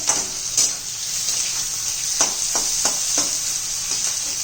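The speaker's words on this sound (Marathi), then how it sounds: "कांदा असा परतून घेऊया आपण" Onion sautéing in a pan for a coriander bhaji, a steady bright sizzle throughout with several soft scraping stirs of a spoon breaking in at intervals.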